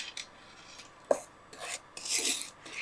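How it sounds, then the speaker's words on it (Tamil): A metal spatula scrapes and stirs as rice flour dry-roasts with semolina in a pan for thattai, giving a few soft scrapes, a sharp clink and a longer gritty rasp near the end. "இந்த அரிசி மாவையும் நம்ம லேசாக வறுத்துக்க போகிறோம்."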